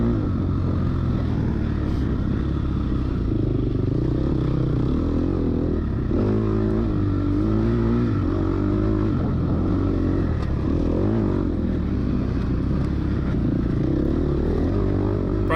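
A dirt bike races through a hare scramble at Pine Grove, its engine a steady, loud, close drone that rises and falls with throttle changes for the whole stretch, with no talking.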